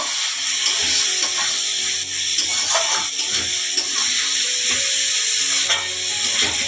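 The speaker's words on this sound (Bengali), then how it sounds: "চিকেনটা দিয়ে ভালো করে কষে নেব" Boneless chicken frying in masala in a pan for pasta, a loud steady sizzle and hiss with occasional stirring scrapes, close and continuous with no talk.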